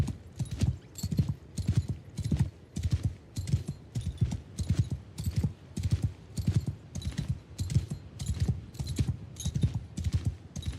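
Horse hooves clip-clopping in a steady, regular rhythm in the Old Realms mod of a fantasy strategy video game, moderately loud and continuous.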